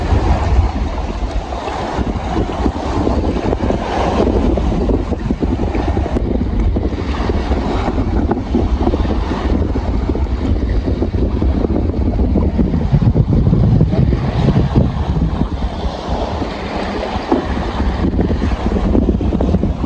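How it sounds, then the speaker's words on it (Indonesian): Strong, steady wind roars and buffets the microphone at sea off Masteng during net fishing, with waves and surf rushing underneath throughout, no voices. "Ini anginnya teman-teman luar biasa ini. Ini berangin ini."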